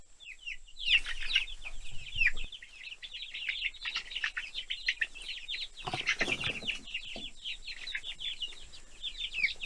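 Fryer chickens on a homestead cluck and peep together in a busy, continuous chorus of short calls, close by and fairly quiet, with no voices.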